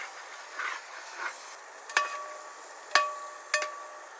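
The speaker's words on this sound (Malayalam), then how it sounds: "ഇതൊന്ന് നന്നായിട്ട് ഇളക്കി യോജിച്ചു പിടിക്കുക" Kerala-style chicken peralan masala with shallots is stirred in a pan over a soft sizzle, with three sharp spatula taps against the pan near the end.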